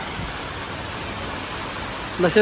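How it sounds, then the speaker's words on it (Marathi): Heavy rain falls at the parking area of the Jotiba hill temple near Kolhapur as a steady, even hiss of moderate loudness, with a brief voice rising near the end. "खूप पाऊस पडतो त्यामुळं आम्ही इथेच थांबलो"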